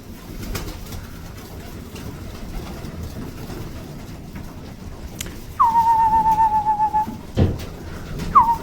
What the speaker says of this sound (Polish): Gołębie też pokazuje.